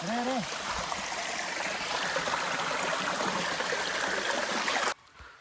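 Water rushes steadily at Bayyaram waterfalls, a dense close-up roar of flowing water that cuts off abruptly near the end, with a brief voice at the start.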